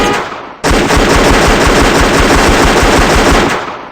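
Loud sustained automatic gunfire in the video game CrimeLife 3, a rapid unbroken burst of shots lasting about three seconds after a brief quieter lead-in.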